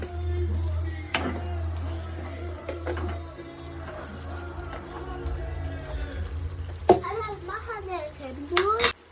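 Chicken curry with coriander and spices being stirred in a pan, soft scraping and sizzling with occasional clinks of a utensil against the pan, under a steady low hum, with a voice speaking briefly near the end.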